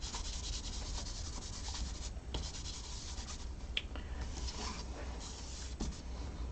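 An embossing buddy is rubbed over paper before embossing, giving a soft, continuous, faint scratchy rubbing with a few brief ticks and no talking.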